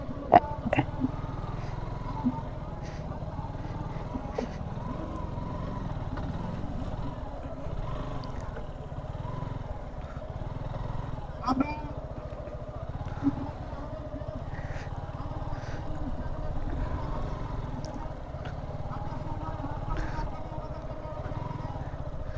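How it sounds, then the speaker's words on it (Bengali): Motorcycles riding along a muddy road on a group tour in Feni, giving a steady, loud engine drone throughout with a few brief louder bumps; no talk is heard. "আমরা এই পাশ থেকে বাইকটা নিয়ে যাচ্ছি"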